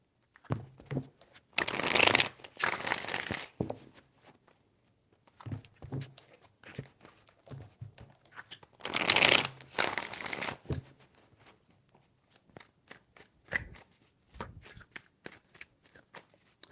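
Tarot cards being shuffled by hand in two loud, riffling bursts a few seconds apart, with quieter taps and card handling between them, close up and without speech.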